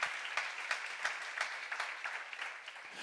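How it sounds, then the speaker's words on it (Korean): A congregation at a church seminar claps in quick, distinct bursts, fairly faint and somewhat distant, with a rhythmic pattern of sharp hand claps running throughout. "박수."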